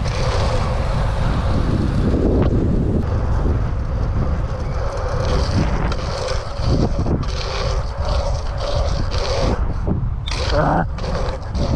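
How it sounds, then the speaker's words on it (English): Strong wind buffets the microphone at an outdoor BMX track, a continuous loud rumbling roar with gusty fluctuations throughout, plus scattered clanks and faint background sounds. "Very windy."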